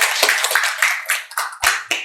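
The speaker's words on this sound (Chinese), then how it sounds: "让我们以热烈的掌声，各位嘉宾的到来呢，再次的表示欢迎" Warm applause from an audience welcoming guests at a university gathering, a dense patter of clapping that swells and dips in waves over about two seconds, fairly close and steady.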